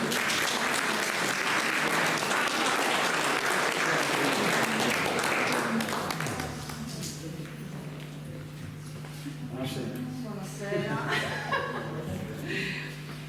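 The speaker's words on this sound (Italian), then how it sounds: "L'applauso a Isangela" Audience applause at an Italian poetry gathering, dense clapping filling the first six seconds before thinning out, with a low steady hum and a few voices murmuring through the quieter remainder.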